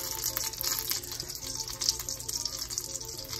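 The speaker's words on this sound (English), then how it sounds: "We'll start flipping the omelet." Omelette sizzling in a sauté pan as it is worked and flipped, a steady close frying hiss with watery gushing texture and small bursts, no talk.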